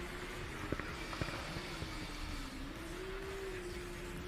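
A steady engine drone with a shifting pitch, as a combustion Formula Student race car runs along the track during an endurance event at moderate distance, with a few sharp knocks over a constant background rumble.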